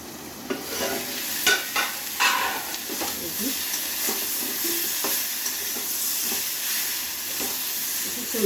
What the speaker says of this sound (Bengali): ফুলকপিটা দেওয়ার পরে আমি একটু কষিয়ে নেবো